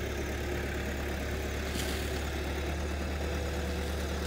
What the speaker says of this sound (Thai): ขนาดเดินเบาธรรมดานะครับ